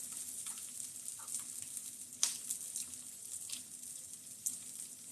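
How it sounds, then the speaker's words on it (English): Broccoli searing in a hot pan, a steady close sizzle with occasional sharper pops and crackles, no talking. "I'm just going to give my broccoli here a quick sear."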